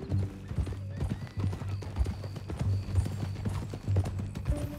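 Horse hooves clip-clopping at a steady walking rhythm in the Red Dead Redemption 2 video game, close and fairly quiet, joined by a brief whinny.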